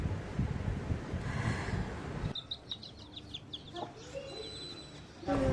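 Chickens cluck and small chicks peep in short, close bursts after a stretch of wind buffeting the microphone.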